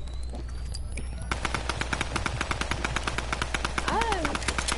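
Rapid automatic gunfire in a PS4 video game, a steady stream of evenly spaced shots starting after a second of quiet hum, loud and sustained, with a brief voice near the end.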